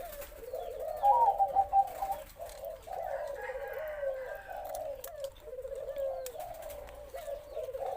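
A spotted dove coos close by in repeated, rolling low phrases, with short pauses between calls and no other sounds.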